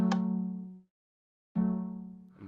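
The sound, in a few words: alarm going off in a video game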